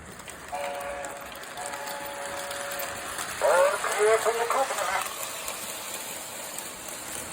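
A Williams NW2 model switcher locomotive runs with a steady electric whine, then a louder mechanical rattle and clatter swells briefly before settling back.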